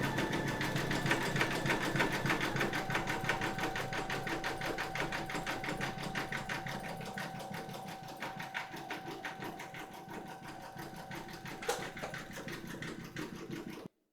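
A home embroidery machine sews a satin stitch border around dark fabric with matching bobbin thread, a steady rapid mechanical chatter of needle strokes that runs evenly and close throughout.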